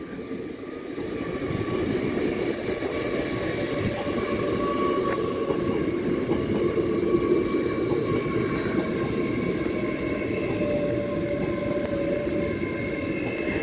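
An LNER Azuma class 801 train, unit 801217, pulls out of York station for Edinburgh Waverley via Newcastle, a steady rumbling engine drone that builds and holds with faint whining tones above it.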